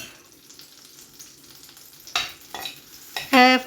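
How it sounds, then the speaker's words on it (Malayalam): Paneer cubes fry in hot butter in a pan, a quiet steady sizzle building to sharp crackling bursts as pieces hit the fat, ending in a loud spitting flare with a clanking pan or utensil. "ബട്ടർ ചൂടായി വരുമ്പോൾ നമുക്ക് എടുത്തു വെച്ചിരിക്കുന്ന പനീർ ചെറുതായിട്ടൊന്ന് ഫ്രൈ ചെയ്തെടുക്കാം"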